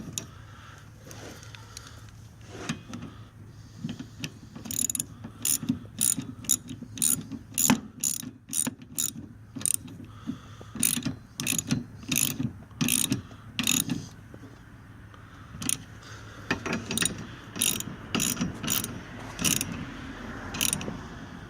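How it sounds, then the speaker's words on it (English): Ratchet clicking in repeated bursts while snugging 14 mm nuts on a 2005 Nissan Quest during an upstream O2 sensor replacement, sharp close pawl ticks in quick runs separated by short pauses, no talk. "now we're just going to snug these 14 millimeter nuts back down"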